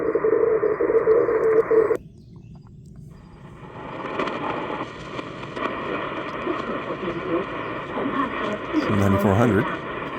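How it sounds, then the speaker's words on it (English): A radio teletype signal on the shortwave band around 9380 kHz, heard as a steady two-tone data warble that cuts out briefly and returns amid static and noise. "Radio teletype."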